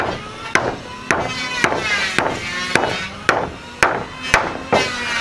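Hammer blows drive small nails during home building work: about nine sharp, evenly spaced strikes land roughly every half second, loud and close, with a faint ringing hum between hits.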